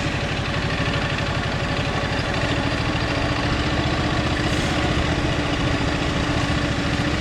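A dirt bike's engine chugs at low revs while the rider eases out the clutch to climb over a log, with a steady close-up rumble that never rises to a sharp rev.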